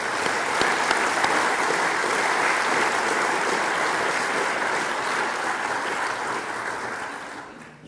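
A lecture audience bursts into sustained applause welcoming Prof Eric Rignot to the podium, a dense, steady wash of clapping that fills the room for several seconds before tapering off slightly at the end.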